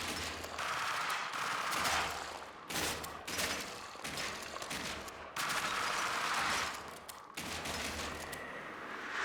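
Submachine gun fire in the Shotgun Cop Man video game, with dense, rapid bursts rattling almost continuously at close range and a few brief gaps between volleys.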